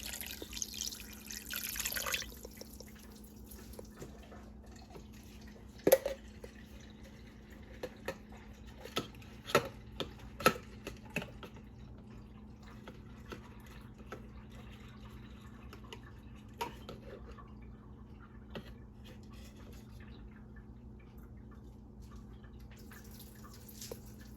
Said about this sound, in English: Now I'm adding in the water.